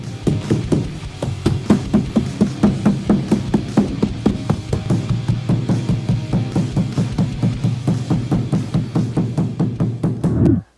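A rubber mallet thumps a truck bed mat into place with steady, rapid blows, dozens of firm close knocks one after another with no pauses, ending abruptly.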